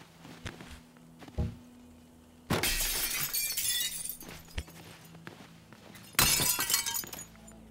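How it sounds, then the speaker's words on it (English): Glass shatters in the destruction game Teardown: two big crashes of breaking panes with a bright tinkling spray, separated by footsteps, scattered thunks and a low hum in between. "Oh, this is all glass."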